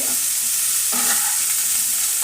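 Cauliflower pieces fry in oil in a frying pan, giving a steady, loud, hissing sizzle throughout with a brief scrape of stirring midway and no voices.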